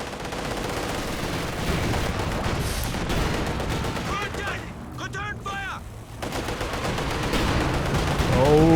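Heavy mortars and Katyusha rocket fire in Company of Heroes 2 rumble as dense, continuous battle noise with rapid gunfire, blasts and whistling shells, loud and layered, with a voice talking over it.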